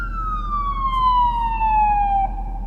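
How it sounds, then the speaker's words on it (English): An ambulance siren wails in one long descending sweep as it passes along a street, steady and fairly close, over a low engine hum, then cuts off near the end. "You're hearing an ambulance coming down the street."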